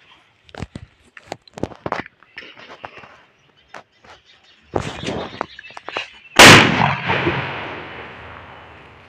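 Diwali firecrackers set off at home, first several sharp cracks and pops scattered across the opening seconds, then a cluster of louder bangs and one very loud close blast near the end whose rumble slowly fades.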